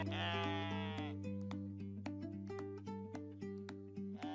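Goat bleating in a musical children's animal segment, a drawn-out bleat at the start followed by a plucky tune with a steady low drone, no talk.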